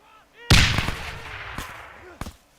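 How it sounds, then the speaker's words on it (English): A grenade explodes in an ArmA 3 World War II battle with a sudden loud, close blast that rolls off into a long rumbling decay, followed by a few sharper distant cracks. "Somebody threw a grenade."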